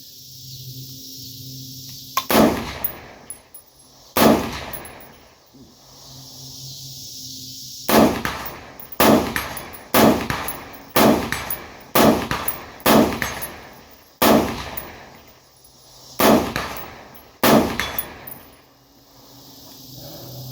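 AR rifle fired with iron sights, a series of about eleven sharp, loud close-range gunshots, spaced irregularly with a couple of isolated shots then quicker clusters, no talking between them.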